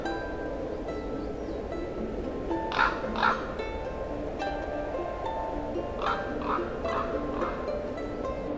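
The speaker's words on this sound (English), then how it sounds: "The Arctic raven is more than a survivor." An Arctic raven calls in a few short, harsh croaks, a pair and then a quick series of four, moderately near over a steady background hum.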